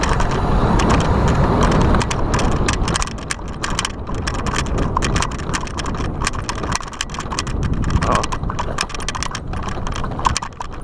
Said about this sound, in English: You can tell the motor's got a lot left in it. It just wants to keep going.